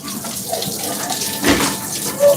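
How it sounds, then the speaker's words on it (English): Cold water runs from a tap onto food in a busy work kitchen, a steady close splashing stream lasting a couple of seconds with a brief surge midway. "I'm just gonna put some cold water on this."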